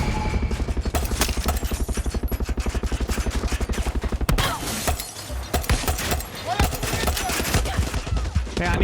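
Automatic gunfire in Far Cry 6, a loud, rapid, evenly spaced burst for about four seconds, then irregular shots and crashing impacts with game music and effects.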